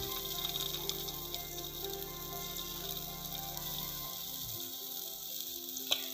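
Chocolate pancake batter sizzles in a frying pan as small round pancakes cook: a quiet, steady crackling hiss with a low hum that drops away partway through, then one faint tap near the end, no voices.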